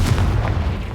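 A Confringo explosion spell goes off in Hogwarts Legacy as one deep, loud, rumbling boom that fills the whole short moment.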